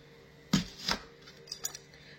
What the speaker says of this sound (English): you'll see I'm cutting it in little thin slices here